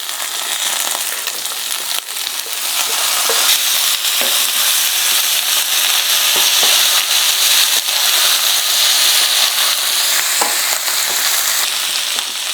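Ivy gourd pieces hit a hot pan and fry with a loud, continuous sizzle that holds steady throughout, with occasional faint clinks and stirring scrapes.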